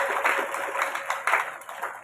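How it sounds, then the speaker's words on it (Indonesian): Applause from an evening open-air revival crowd at Lapangan Moru, broadband clapping pulsing in uneven surges for the whole stretch, moderately loud and without talk over it. "Beri tepuk tangan buat Tuhan Yesus"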